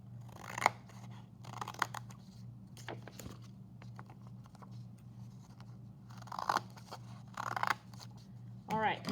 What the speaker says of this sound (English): we're going to make a cut just like before